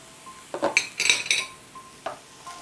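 Chicken filling cooked with soy sauce, chilli sauce and tomato sauce for a sandwich is stirred in a pan, giving a few close, brisk metallic scrapes and clinks of a spoon against the pan with quiet gaps between.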